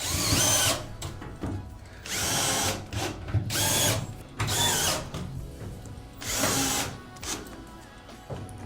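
Power drill driving wood screws into the H-bar of a wall bed in a bunkie, in several close whirring bursts of about a second each, separated by short gaps, with no talk.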